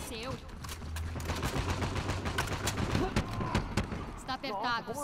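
Rapid gunfire from a shooting video game, steady bursts of shots throughout under continuous voice chat and game sounds, fairly loud and close.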